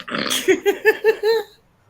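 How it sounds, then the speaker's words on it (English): A loud, close burp from someone in a garden, a single drawn-out belch of several rapid gulping pulses that rises and then fades into quiet, heard alone. "Someone in the garden burping because they live with tramps."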